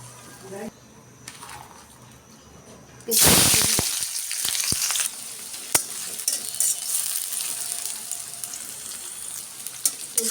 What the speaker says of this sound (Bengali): মরিচটি বেজে নিলাম মরিচটি বেজে নেব